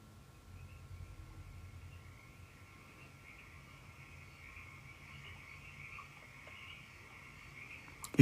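A frog croaks steadily and softly in a continuous calm chorus over faint background noise, with a sudden loud click at the very end.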